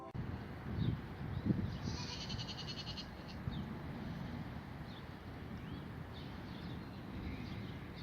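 Goats bleat on a farm, a few brief calls rising over steady wind noise outdoors, faint and somewhat distant with no voices.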